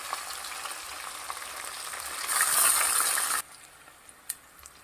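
Onions and green chillies sizzling in a pan, a steady hiss of frying oil that swells louder for a second and then drops off abruptly to quieter crackle.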